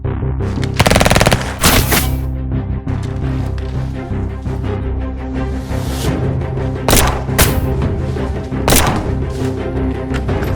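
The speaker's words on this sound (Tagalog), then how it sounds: "Anong mga putok yun? Nilulusob yata tayo." Loud gunfire erupts in rapid bursts and scattered single shots, booming and echoing, with no voices.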